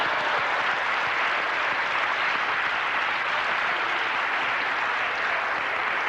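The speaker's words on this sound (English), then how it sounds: "can we now give an applause for the 2 or 3 or 4 of y'all that are African American?" Dense, even applause from a lecture audience, a continuous wash of many hands clapping at steady loudness for several seconds, with no one speaking over it.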